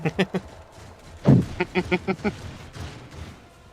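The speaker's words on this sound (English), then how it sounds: "It's like background gunfire for ambience" Quick bursts of popping background gunfire from the video game Warhammer 40k: Rogue Trader in rapid clusters, moderately loud, with a voice murmuring faintly underneath.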